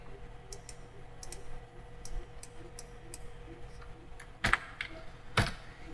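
Fingers tap a search into a computer keyboard, a string of light, quick clicks followed by two louder key strikes, close and quiet over a faint room hum with no talk.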